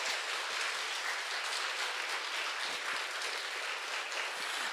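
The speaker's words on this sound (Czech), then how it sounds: "Pořádně nám zatleskejte." Dense, steady applause from a crowd of parents at a kindergarten spring celebration, many hands clapping continuously and fairly loud throughout, with no talking heard over it.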